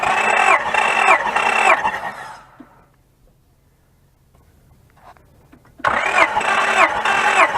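A 2004 Honda Pilot with a misfire cranking over during a cylinder compression test: rapid rhythmic starter churning, a pause of near silence, then cranking resumes, loud and close without anyone speaking.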